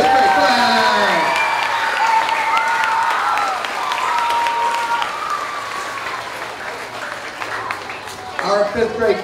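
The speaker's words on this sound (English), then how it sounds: "Everybody, let's give a huge round of applause for our fifth grade class!" A school awards assembly crowd bursts into loud, sustained applause and cheering for the fifth grade class, with whoops rising over the clapping before it thins toward the end as a voice begins speaking.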